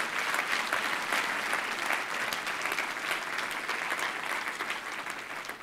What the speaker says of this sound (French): je pense que ça mérite une main d'acclamation pour le Seigneur